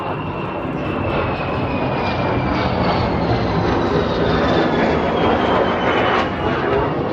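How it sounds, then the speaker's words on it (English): A fighter jet roars overhead outdoors, a loud sustained broadband rush with a slowly falling whine as it passes, no talking. "I get rudely interrupted by a fighter jet"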